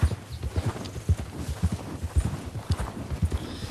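Hooves clip-clop in a steady, close, loud rhythm as a horse named Titan moves across slippery ground in Red Dead Redemption 2, with no clear neigh standing out.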